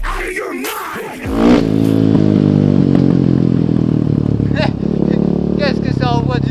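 A KTM 500 EXC-F motorcycle engine fires and revs loudly close by, a harsh sustained roar with a couple of sharp throttle blips, after a brief noisy start with voices.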